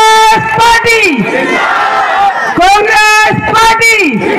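A crowd at an Indian Congress Party election rally shouts a slogan in loud unison, voices rising in bursts with a leader calling out in between, close and forceful.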